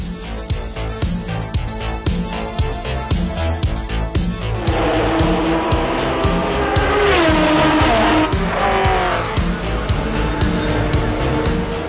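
A Porsche 956/962 Group C race car from the 1980s drives at speed, its loud engine roaring steadily and climbing in intensity partway through, with no speech over it.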